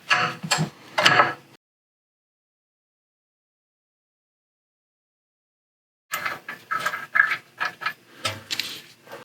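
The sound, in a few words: ratchet with 18 mm socket loosening BMW F10 brake bolts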